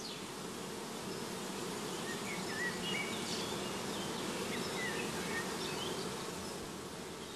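Honey bee colony buzzing loudly and continuously at close range while a beekeeper divides it to form an artificial swarm, a dense steady drone with no talk.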